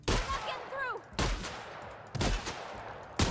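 Gunfire from a weapon in The Outer Worlds video game: four loud, close bursts roughly a second apart, with a brief whistling tone between the first two.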